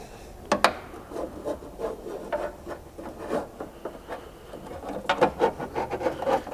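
A plastic nut strip is flexed and slid into a Ford Bronco tailgate, giving soft irregular rubbing and scraping with a few sharper clicks, close and quiet, with no talking.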